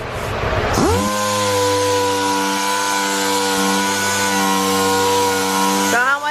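A power sander feathers out scratches in Bondo body filler on a lifted Ford F-350 dually truck, running at a steady, close, droning pitch for about five seconds after a quick spin-up.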